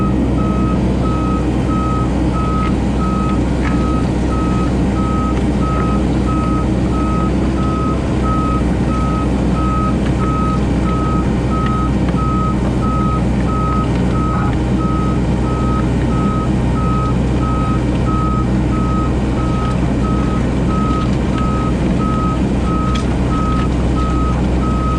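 Komatsu PC88MR-8 mini excavator working in mud, with a steady loud engine drone and a repeating high reversing beep running throughout, close and continuous.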